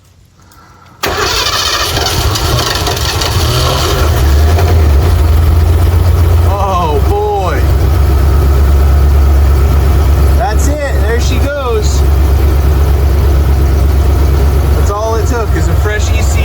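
A Ford small block V8 in a converted van cranks and catches with a sudden roar, then settles into a loud, steady idle with a slight knock, while someone talks over it at intervals.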